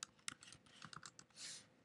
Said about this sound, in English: So let's go ahead and start typing in